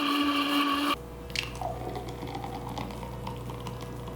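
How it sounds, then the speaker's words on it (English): A Vitamix blender whirring through a plant-based mixture with water, a loud, tonal motor whine for about a second before it cuts off into quiet background noise. "So we're just gonna blend this up."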